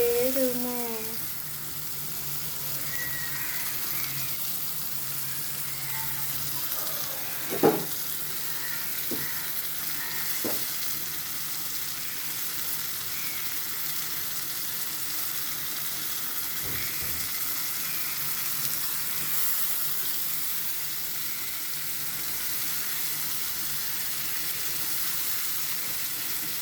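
Onion and tomato sautéing in a pan before dried anchovy goes in, a steady soft sizzle running throughout with a few sharp clinks of a spoon against the pan, faint and continuous.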